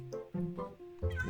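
A pet cat in Minecraft lets out three quick, close meows in succession, clear and alone over a quiet background.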